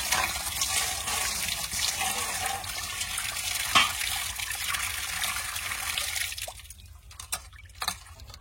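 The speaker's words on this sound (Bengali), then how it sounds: "আর একবার ধুয়ে নেবো, জলে পরিষ্কার হয়ে গেছে" Koi fish being washed in water produce continuous sloshing and trickling close by that fades to quieter splashes and drips toward the end, with no talking.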